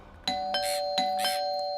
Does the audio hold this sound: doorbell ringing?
yes